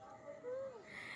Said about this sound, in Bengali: দুষ্টু ছাদে এসেছে আর কোকিল ডাকছে।